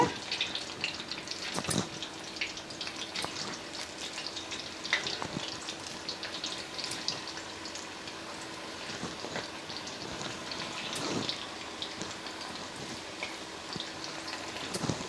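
Chicken pakora pieces sizzle in hot oil in an Andhra-style kitchen, a steady fine crackling hiss with occasional sharper pops, moderately quiet throughout.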